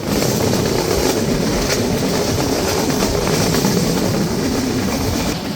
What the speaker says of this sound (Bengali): পদ্মা এক্সপ্রেসকেই লাইন ক্লিয়ার দিয়ে বের করে দেওয়া হলো মাঝগ্রাম রেলওয়ে স্টেশন থেকে